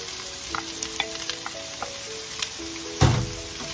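Chicken liver for chopsuey fries in a pan with a steady crackling sizzle, scattered pops and utensil clinks over the bubbling, then a sharp, louder clatter as more goes in near the end, with no talking.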